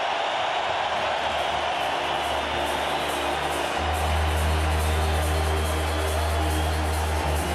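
A large hockey crowd fills the Air Canada Centre in Toronto for an Eastern Conference Championship playoff game, roaring in a steady, loud wash of cheering that swells and grows louder partway through.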